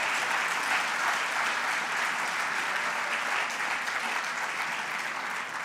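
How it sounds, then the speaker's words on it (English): Sustained audience applause at a women's business awards event, a dense, steady wash of clapping from a large crowd that holds at an even, fairly loud level throughout with no talk over it. "let's give ourselves a round of applause, shall we?"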